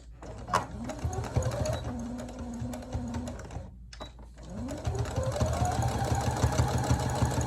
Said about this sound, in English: we're going to go down about 3 stitches and back stitch 3 stitches and then go on down to the end